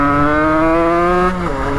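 Motorcycle with a stage 6 tuned 77cc cast-iron kit accelerating hard on a quiet road, a loud buzzing two-stroke engine whose pitch climbs steadily then drops sharply as the throttle eases off, close to the microphone.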